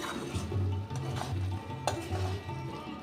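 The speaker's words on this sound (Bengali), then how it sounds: "ঘি দিয়ে নাড়িয়ে" Goat liver and cabbage curry stirred with a little ghee in a pan, a continuous close scraping and clattering of the spoon against the metal with a soft sizzle beneath, steady for about three seconds.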